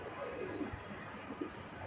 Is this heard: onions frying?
no